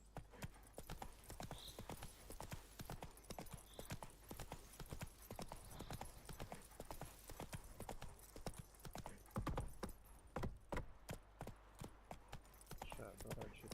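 Roach, the horse in The Witcher 3, gallops with a fast, steady clip-clop of hooves on the ground, continuous and close, over faint game ambience.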